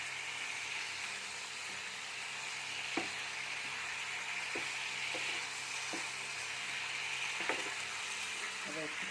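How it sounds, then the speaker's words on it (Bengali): Fish sautéing in an oiled pan for a Bengali fish curry with cumin and ginger, giving a steady, even sizzle throughout with a few soft stirring clicks and taps, no voices. "মাছ দিয়ে একটু কষিয়ে নেব।"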